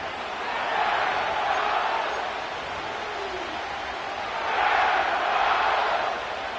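A stadium crowd roars in an EA Sports NFL football game, a broad sustained roar that swells twice, surging loudest near the middle and toward the end, heard without talk.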